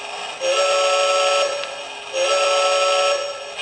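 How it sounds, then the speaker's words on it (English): Two long, loud blasts of a model train horn, each about a second, with a short pause between them. "You got your horn"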